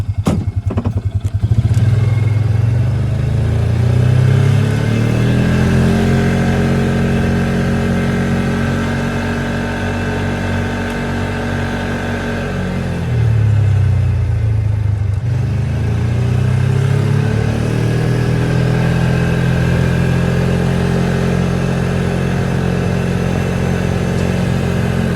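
A Polaris Ranger UTV engine drives off, its loud rumbling drone rising and falling as it revs, easing briefly midway before picking up again, with occasional clattering thumps and no talk.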